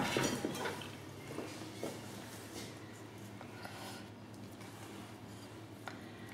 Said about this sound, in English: Run cold water on them to stop them cooking.